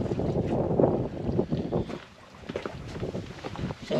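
A sailboat moves slowly under sail in very light early-morning wind on open sea, giving a steady broadband rush of wind and water with soft irregular swells and gusts that dip midway, with no voices.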